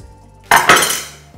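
A chopping board is set down on a kitchen counter with two hard knocks about a fifth of a second apart, each followed by a short ringing decay. The sound is close and heard alone.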